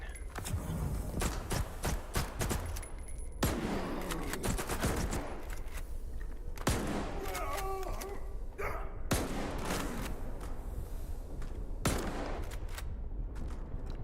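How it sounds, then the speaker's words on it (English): Shotgun fire in the video game S.T.A.L.K.E.R. 2, with dense repeated booming blasts and thuds over a busy, noisy game soundscape throughout. "Much easier to get headshots with the shotgun."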